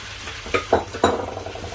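Chicken frying with ginger in a karahi: a close, bright sizzle with several quick spatula scrapes and clinks against the metal pan, brief and without talk.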